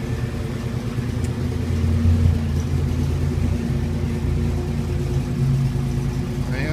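A 1987 Buick Grand National V8 engine idles after a cold start, having sat 9-10 months, with a steady low rumble and faint mechanical ticking, running continuously at close range.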